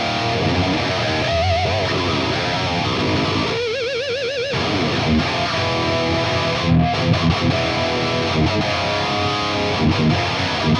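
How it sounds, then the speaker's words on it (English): Electric guitar through a high-gain amp channel with a modern metal tone, heavily distorted rhythm riffing with a brief warbling effect section midway, loud and continuous without talk. "So now let's switch over to the blue channel, which is a lot more aggressive, a lot more modern voiced, and tons more gain"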